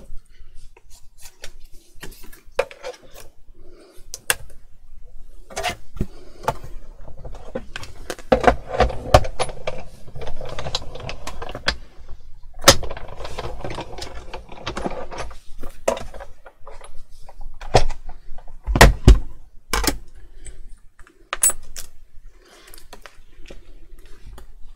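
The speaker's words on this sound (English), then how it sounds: "I'm just going to quickly die cut that" A manual die-cutting machine presses gold craft material for a toybox drum project, making a run of rubbing, grinding crank noises broken by sharp clicks and knocks, close by with no voices.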